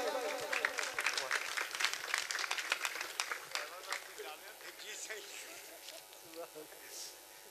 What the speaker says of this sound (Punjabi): ਤਾਲੀਆਂ ਪੀਰ ਭਾਈ।